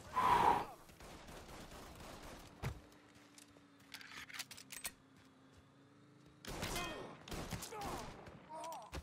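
Gunfire in the Mafia III video game, a few sharp bursts and single shots scattered across the clip with quieter stretches between, fairly faint overall and mixed with occasional talk.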